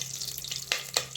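Cinnamon and cloves fry in a pan of oil alongside cashews, giving a soft, steady sizzle with two brief crackling pops.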